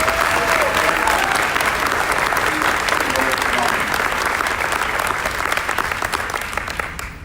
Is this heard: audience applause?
yes